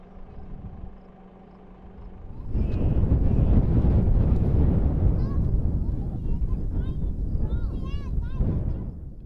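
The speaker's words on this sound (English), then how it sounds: "It is windy up here, my goodness." Strong gusting wind buffets a microphone on a hilltop summit at Scottsbluff Monument, starting after a quieter moment and then roaring loud and steady, with a voice faintly underneath.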